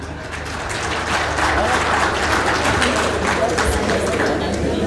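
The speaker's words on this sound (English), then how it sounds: "Another big round of applause, ladies and gentlemen." A conference audience breaks into loud, sustained applause, dense clapping that swells within the first second and holds steady to the end.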